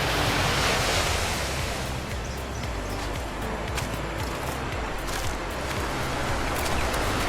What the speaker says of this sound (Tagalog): Gusto ko lang makita yung dagat. Lakas ng alon sa ata.